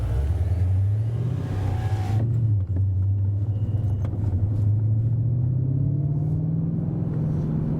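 A BMW M5 E39 with a Super Sprint exhaust and 430 horsepower accelerates hard in second gear, its deep engine drone rising steadily in pitch under a constant loud cabin rumble, with no talk.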